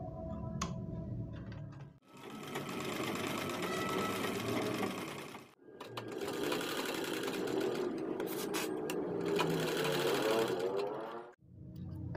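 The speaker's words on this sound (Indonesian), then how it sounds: "kemudian jahit kembali, lalu berhenti lagi bagian sudut, lalu jahit kembali seperti ini" A sewing machine stitching fabric in three long continuous runs, a fast even mechanical whir and needle clatter up close, with brief stops between runs at the corners.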